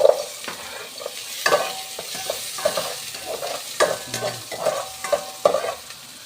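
Ginger, garlic and onion sizzle in a hot pan, with repeated clacking stirs and scrapes of a spatula over a continuous frying hiss, close and without speech.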